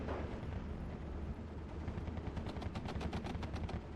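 A DShK heavy machine gun in the war video game Steel Division 2 fires rapid, loud bursts of rattling shots amid dense, continuous battle din.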